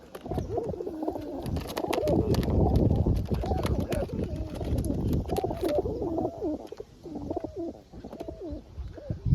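Pigeons in a home loft coo repeatedly at close range, a steady run of throaty rolling calls over scattered sharp clicks and light tapping.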